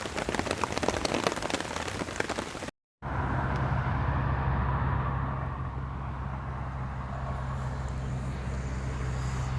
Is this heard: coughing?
no